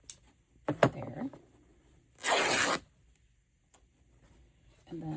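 Fabric is trimmed with scissors in a few short, close snips and rustles, with a longer tearing or cutting burst in the middle and brief speech near the start and end.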